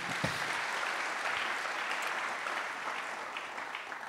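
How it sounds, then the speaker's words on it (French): A church congregation bursts into sustained applause during a French-language service, a dense, steady clapping that stays close and loud for the whole stretch with no talk over it. "Acclamons la parole de Dieu."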